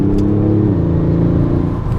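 Kia Stinger GT with its 8-speed automatic transmission accelerating hard, its engine droning loud and close, then dipping in pitch as a quick gear change comes partway through and the revs climb again.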